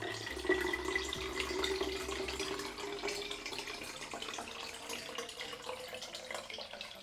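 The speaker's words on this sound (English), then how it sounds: "now we're going to pour some cold water in there to bring the temperature down to around 20 degrees Celsius" Cold water pours steadily into a home brew fermenter for apricot hard soda, a continuous close splashing and gurgling rush that holds at an even level throughout with no talk.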